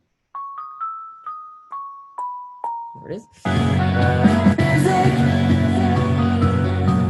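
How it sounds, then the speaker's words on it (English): Vibraphone notes in a music production ring out one by one, about seven soft mallet strikes each decaying with a shimmering tail, before a full loud mix of instruments bursts in; a brief voice is heard. "I chucked in a vibraphone"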